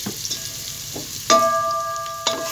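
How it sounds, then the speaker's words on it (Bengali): Chopped onions with salt sizzle in soybean oil in a pan for chal biryani. The frying hiss is steady and close, and two sharp clanks of a spoon or spatula stirring cut in over it. "এবার নাড়াচাড়া করে আস্তে আস্তে পেঁয়াজটাকে একটু ভেজে নিব"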